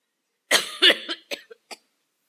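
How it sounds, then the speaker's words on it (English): A speaker at a college commencement podium coughs several times in quick succession, loud and close through the microphone, the bursts shrinking and spacing out before silence returns. "Give me a minute, I'm going to cough."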